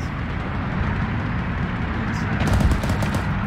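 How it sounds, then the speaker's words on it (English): Gunfire in the ARMA 3 combat game, with dense, continuous bursts of shots and rumbling blasts filling the whole stretch, loudest near the end. "Taking gunfire from the west."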